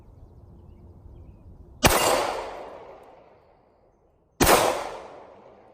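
Two sharp, loud shots from a Smith & Wesson M&P 45c compact pistol firing .45 rounds, a couple of seconds apart, each a sudden crack with a ringing echo that decays slowly over a quiet background.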